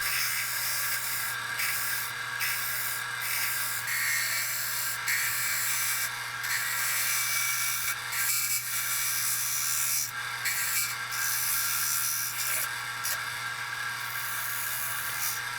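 A small bowl gouge shear-scraping a walnut and tigerwood bowl on a lathe makes a steady, bright, hissing rasp over a constant motor hum, with brief dips and surges as the tool contact changes. No one speaks.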